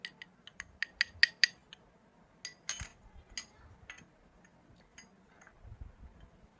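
Cake batter being mixed with cocoa powder in a bowl for a microwave cake, heard as a series of sharp clinks and taps of a utensil against the bowl, followed by softer scraping and a few low thumps, fairly quiet, with no talking.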